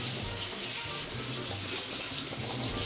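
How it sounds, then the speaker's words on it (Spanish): Splash of water poured into a meatball mixture while cooking, a steady continuous pouring, running-water sound lasting throughout, fairly close, with faint kitchen noise underneath. "le echan un chorrito de agua"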